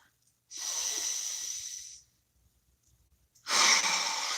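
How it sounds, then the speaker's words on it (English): Two long, deep breaths taken close up, the first a drawn-out airy inhale lasting about a second and a half, then a pause before a second, louder, breathy rush of air; no talking. "Take a nice deep breath"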